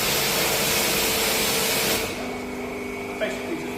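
Water sprayed onto a car's rear window during detailing, a steady loud hissing spray for about two seconds, then a quieter lingering drip and rustle.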